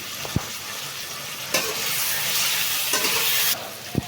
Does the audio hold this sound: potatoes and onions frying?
yes